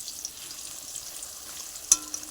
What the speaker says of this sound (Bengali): মাংসের জন্য আলু ভাজা হচ্ছে